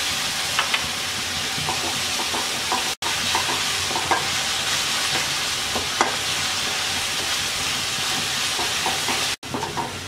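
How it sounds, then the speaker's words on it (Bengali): Ground spices, including turmeric and roasted cumin powder, sautéing in a pan with a little water for a spiny gourd and jackfruit seed curry: a loud, continuous sizzling hiss with occasional stirring scrapes, and no voices. "এবার অল্প একটু পানি দিয়ে মশলাটা কষিয়ে নেব।"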